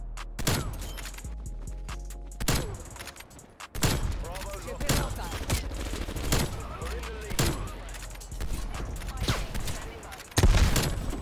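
Sniper rifle shots in Black Ops Cold War, several loud sharp cracks spaced a second or two apart over game noise, with players talking between them.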